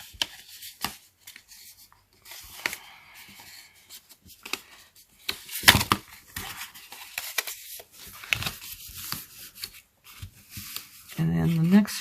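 Cardstock fun-fold Valentine card being folded and burnished, giving soft papery rustles, creases and scraping rubs in short bursts, with a voice talking at times.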